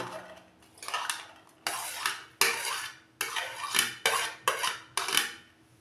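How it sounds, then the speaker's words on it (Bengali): Chopped capsicum, paneer, onion and sweet corn being mixed in a bowl, a spoon striking and scraping the bowl in about eight sharp, bright clattering strokes, close and loud with short gaps between them. "এখন আমি এগুলোকে মিক্সড করব। সবজিগুলোকে একটা বোলের মধ্যে আমি নিয়ে নেব।"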